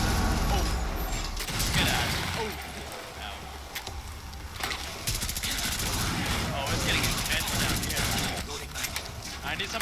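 Sustained gunfire bursts from a shooter game's outbreak mode, loud and dense throughout with rapid volleys layered over game ambience and occasional voices.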